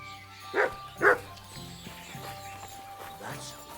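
In the medieval video game Kingdom Come: Deliverance II, a dog gives two short barks close by, then quieter whimpers and rustling over a low ambient hum.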